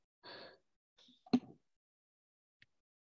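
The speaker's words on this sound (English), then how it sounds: "it made me do that almost snore out loud" A person gives a short, sharp snore-like snort after a breathy gasp, with a faint sniff following. All of it is close and isolated against silence.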